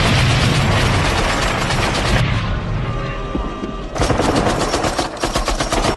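Rapid machine-gun and rifle fire from a Vietnam War film, loud and dense, rattling in continuous bursts that ease briefly midway before the heavy shooting resumes.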